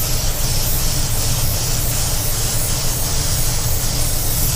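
A spray gun lays a light base coat of paint onto a hand-cut design panel, giving off a continuous loud hissing spray with no pause for the whole stretch.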